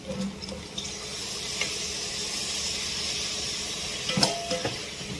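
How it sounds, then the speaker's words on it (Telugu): Chopped dosakaya (yellow cucumber) is dropped into hot, oil-glossed masala frying for a mutton curry, giving a steady close sizzle and hiss with a few soft clinks and stirring knocks, and no talking. "ఇప్పుడు దీనిలో మనము కట్ చేసి పెట్టుకున్న దోసకాయ వేస్తున్నాను నేను"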